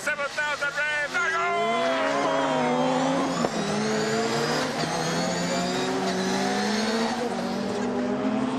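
A 600-horsepower rallycross car at Brands Hatch held at about 7,000 rpm for a race start, its engine revving loud and close in a sustained rising and falling roar throughout.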